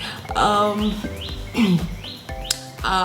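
Small birds chirp and tweet in short repeated calls through the background while a voice murmurs quietly, the chirps close and fairly clear.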